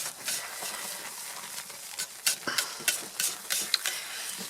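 Hot process jewelweed soap is stirred in a pot, giving irregular scraping and thick squelching strokes, close and fairly quiet, with uneven pauses between movements.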